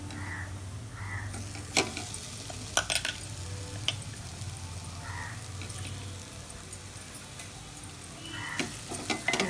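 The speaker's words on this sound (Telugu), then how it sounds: "ఇదంతా పచ్చివాసన పోయేంత వరకు కూడా వేయించుకోవాలి." Onion and potato stuffing mixture frying in a pan for mirchi bajji, a steady sizzle with intermittent scraping stir strokes and clicks of the spoon against the pan.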